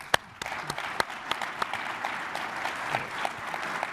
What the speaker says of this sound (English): I want to thank our panel here, and I hope you will too, by giving them a round of applause.